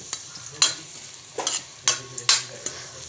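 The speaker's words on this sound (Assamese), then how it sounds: "সানি লৈ মই অলপ পিঁয়াজ ভাজি লৈছোঁ ইয়াতে" Oil sizzles steadily as onions fry in a wok, with several sharp scraping stirs of a spatula breaking through at irregular intervals.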